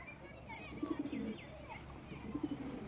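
Pigeons coo in two soft, rolling bursts, one near the middle and one toward the end, over a quiet background with faint bird chirps.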